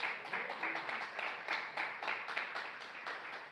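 A church congregation applauding, with dense and steady clapping that swells and dips slightly in loudness throughout at a moderate distance.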